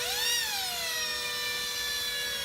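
A power drill whirs steadily at close range during a makeup application near the face, with a high pitch that rises briefly at the start and then holds level and loud.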